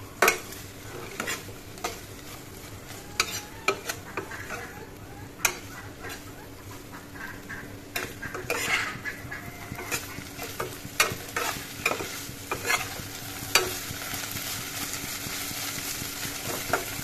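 Small fish sizzle and crackle steadily in a hot pan while a utensil stirs them, with repeated scraping knocks against the pan.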